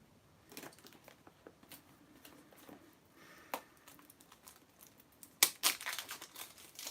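Shrink wrap crinkling and tearing off a boxed OptiPlex computer, faint close rustles building to a few sharper, louder rips near the end.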